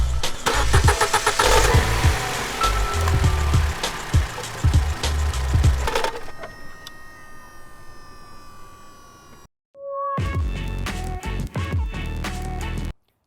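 A car engine cranks and catches, running roughly with loud broadband rumble and revs, then a brief cut to silence before the engine sound resumes steadily with some clunks.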